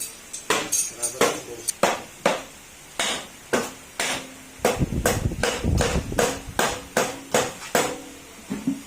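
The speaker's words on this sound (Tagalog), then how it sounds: "gagamit na tayo ng uh, rubber mallet" A rubber mallet knocks repeatedly on the engine crankcase of a Yamaha NMax 155 scooter, tapping in an uneven rhythm with a denser burst of blows midway, close by.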